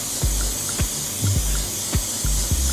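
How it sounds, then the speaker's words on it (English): Freeze spray hissing onto wig lace in several short, sharp bursts, close and loud, with brief pauses between each spritz. "you want to make sure that you put as much freeze spray on there as you can"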